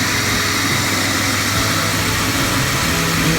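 A Jeep WJ with a 4.0 engine at 202,000 miles idles smoothly and steadily, a close, even rumble with a constant broadband hiss from a fan and no talking.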